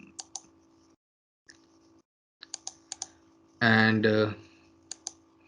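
Keyboard keys clicking as a package name is typed into statistical software, a few sharp taps at a time in short bursts, with a brief stretch of speech in the middle.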